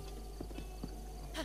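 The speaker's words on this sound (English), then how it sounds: "Don't mind my horse. He has issues. It's a great horse, though." Horse hooves clip-clop at a steady walking pace in Legend of Zelda: Breath of the Wild, a few soft rhythmic thuds close by over a constant low game background hum.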